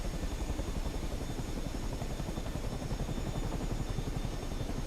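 Steady, loud rotor thump and engine roar of a Chinook helicopter in flight in Microsoft Flight Simulator 2024, constant and close without letup and with no talking.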